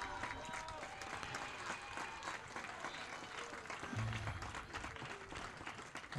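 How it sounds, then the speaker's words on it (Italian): A football crowd in the stands gives a standing ovation as a player is substituted during a local match, broad applause and crowd noise running steadily and fairly distant, with a commentator talking over it. "standing ovation ovviamente per Marco Voci che viene richiamato in panchina proprio per l'applauso"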